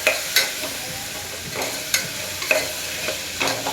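Masala seasoned with salt is stirred in a hot frying pan, a spatula scraping through it in repeated strokes roughly every half second over a steady sizzle, close and clear with no talking.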